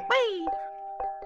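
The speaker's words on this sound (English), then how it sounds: "Why does it sound like doorbells when you hit the crystals?" Bright doorbell-like chimes ring out as crystals are struck in the VR game Gorilla Tag, one loud opening tone followed by a few quicker, softer dings, with a voice briefly mixed in.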